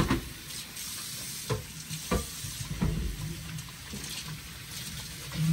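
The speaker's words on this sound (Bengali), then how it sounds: "হেপি কিন্তু মাশাআল্লাহ বড় পাতিলে খিচুড়ি রান্না করছে" Khichuri cooking in a big pot, with a low sizzle under several scraping stirs and knocks of a spoon at an uneven pace, heard up close with no talking.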